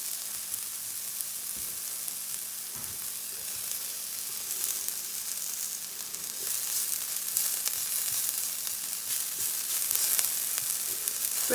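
Onions browning in a frying pan with garlic and nettle, giving a steady, close sizzle with faint crackles that builds slightly louder toward the end; no voices.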